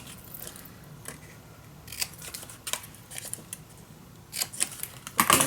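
Scissors cut paper for a Halloween mini album, making a series of sharp, close snips and crisp rustles in an irregular rhythm that grow denser toward the end.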